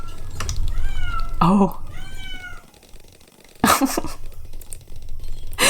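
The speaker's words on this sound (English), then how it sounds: "If I let him in, he will stop meowing." A pet cat meows outside a closed door, two drawn-out, rising meows in quick succession, fairly close, with a brief exclamation from a person and some clicks and rustles.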